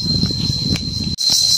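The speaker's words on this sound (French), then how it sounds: "vous pouvez entendre les cigales qui s'en donnent à cœur joie" Cicadas drone steadily in a tall tropical forest on Koh Samui, a loud high-pitched shrill that runs unbroken through the whole clip apart from one momentary dip, with faint rustling underneath.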